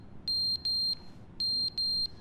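A smoke alarm sounds in two pairs of sharp, loud, high-pitched electronic beeps, each about a third of a second long, with a short pause between the pairs and a low background hum underneath.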